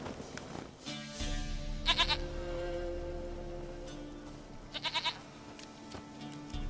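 In The Witcher 3, a goat lets out two short, quavering bleats spaced a few seconds apart, heard over a soft, sustained musical backdrop.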